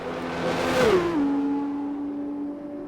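A video game Formula 2 car engine whines past at high revs at Bahrain, its pitch dropping sharply as it shifts down, then holding a steady drone.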